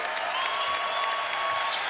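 A basketball arena crowd at a Bulls versus Knicks NBA game cheers and applauds in a loud, sustained wash of clapping, with shouts rising above it for a couple of seconds.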